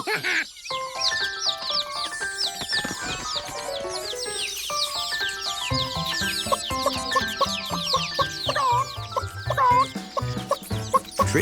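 Cartoon chickens cluck steadily over bright animated music, with a horse whinnying and hooves clip-clopping now and then in a lively kids' cartoon scene, no talking.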